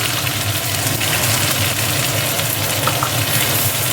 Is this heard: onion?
yes